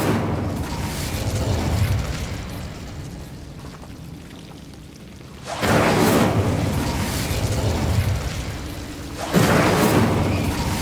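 An Incendio fire spell in Hogwarts Legacy bursts out as a loud, roaring whoosh of flame, rises sharply, sustains for several seconds, then flares again in a second rushing blast.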